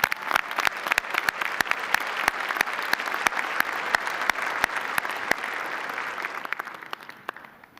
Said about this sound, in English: Let's give this amazing group of people a round of applause for all of their support.